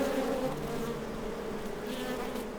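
Honeybees buzz in a steady, sustained drone, dense and fairly close, holding level throughout with no voices.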